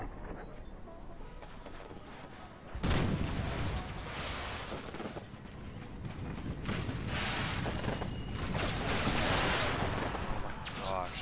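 Cannon and infantry firing in an American Civil War video game: a sudden heavy boom gives way to sustained crackling musket volleys and rumbling blasts, loud and continuous, with a voice faintly underneath.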